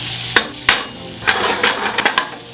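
A spatula scrapes and knocks against a pan as sliced almonds toast, with several sharp clatters and scrapes over a light, dry sizzle close by.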